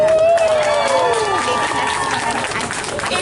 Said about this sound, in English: applaud as loud as you can.